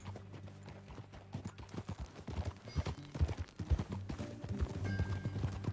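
Horse hooves clip-clop in a steady rhythm during a ride in Red Dead Redemption 2, close and clear, with an occasional snort or whinny and a low music bed underneath.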